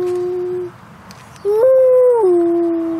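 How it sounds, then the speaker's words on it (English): A Halloween haunted barn toy plays an electronic wolf howl: one sustained tonal howl, a short pause, then a second, louder rising howl that holds and slowly falls, clear and close. "A wolf."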